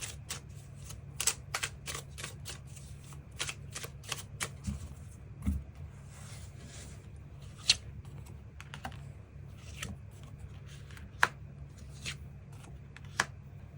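Tarot cards are shuffled and drawn by hand at close range, producing soft, irregular flicks and snaps scattered over a quiet background with no talking.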